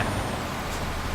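A bus slows in Euro Truck Simulator 2, giving a brief, loud, low engine drone and rumble with a faint airy hiss on top, heard alone.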